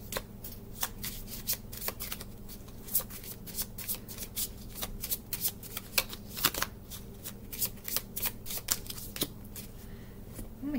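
A tarot card deck being shuffled by hand, with rapid crisp riffling and flicking of cards in irregular bursts throughout, close and fairly quiet against a low steady hum.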